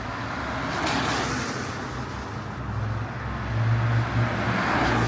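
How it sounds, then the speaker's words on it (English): A fleet of around twelve souped-up Nissan cars rolls past on a road in a rural Japanese village, their engines rumbling and swelling louder toward the end as they go by, with no talk over the sound. "There was just a fleet of like souped up Nissan cars, which was kind of cool too."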